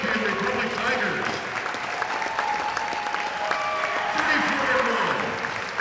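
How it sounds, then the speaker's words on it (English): Steady crowd applause in a high school gym, honouring the 1963 state champion Republic Tigers basketball team. Sustained, even clapping with voices and chatter mixed through it. "Another nice round of applause for your 63 state champion Republic Tigers."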